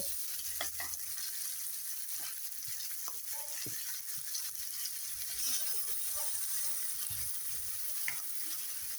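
Vegetables and mushrooms stir-fry in a pan with a continuous loud sizzle and frequent scraping, clattering stirs of a spatula, close up and with no talk.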